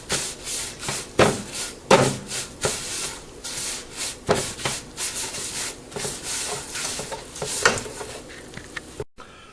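Vermicelli roasts over high heat in a pan with crushed green cardamom, a spoon scraping and rubbing it in repeated rhythmic strokes over a faint steady sizzle, close and fairly loud, with no talking.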